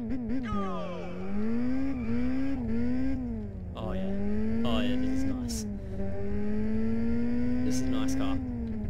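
A car engine revving and shifting pitch while driving in a racing video game, with a rising and falling whine and tire squeal, loud and continuous beneath someone talking.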